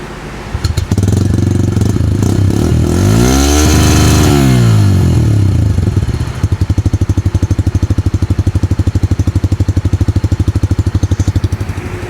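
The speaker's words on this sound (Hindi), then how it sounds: "ये है बाइक की नॉर्मल साउंड" A Bajaj CNG motorcycle engine idles close up, revs up and back down, then settles into a steady, rapid putter.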